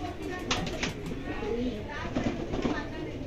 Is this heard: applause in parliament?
no